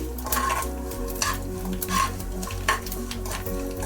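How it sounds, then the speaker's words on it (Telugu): Green chillies fry in plenty of oil in a pan, a continuous close sizzle and crackle with occasional stirring clinks, no one talking. "ఇది పక్కకు తీద్దామని పచ్చిమిర్చి వేయించుకున్నాను."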